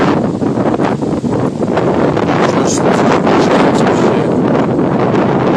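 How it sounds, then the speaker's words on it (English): Strong wind roars and buffets the microphone continuously, a loud, steady rushing with gusty fluctuations. "Today's a really shitty windy day"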